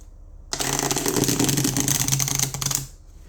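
A deck of tarot cards is riffle-shuffled in one continuous, loud burst of rapid fluttering clicks lasting a couple of seconds, then stops.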